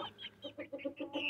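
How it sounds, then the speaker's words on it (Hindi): A hen in a cage clucks in a quick, rhythmic series of short calls, close but fairly soft, with no talking. "हमारी हीरी मुर्गी भी जो भी माशाल्लाह से शुरू हो गई है"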